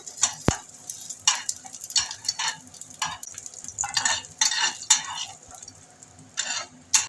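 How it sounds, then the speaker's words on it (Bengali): Crackling sizzle of whole cumin seeds frying in hot oil, with repeated bursts of popping and occasional scraping of a spoon in the pan. "আমি এবার একটু গোটা সাদা জিরে দিয়ে দেবো ভেজে তুলে নেব"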